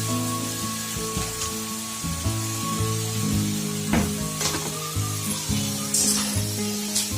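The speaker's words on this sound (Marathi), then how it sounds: "आपला कांदा ब्राऊन होतोय आपण ह्याच्यामध्ये ओला खोबरं टाकून घेतो" Chopped onion browning with freshly grated coconut in an iron kadai gives a steady, close, crackling sizzle with soft stirring scrapes throughout, and no one speaks.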